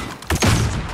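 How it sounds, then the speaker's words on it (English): Flashbang grenade thrown in Call of Duty: Modern Warfare, a short, sudden, dull burst that begins abruptly and fades over less than a second. "Flashbang going out."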